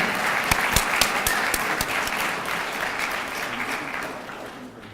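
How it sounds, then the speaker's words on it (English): An audience at a student recognition evening claps for the superintendent, a dense wash of applause with a few sharp close claps standing out early, gradually thinning and fading toward the end. "Let's give him a big round of applause"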